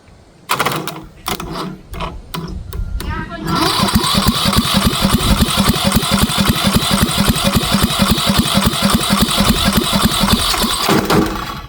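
A few sputtering cranks, then a 19.5 horsepower Briggs & Stratton lawn mower engine on a frame catches and runs loud and steady, chugging rapidly right up close until it cuts off.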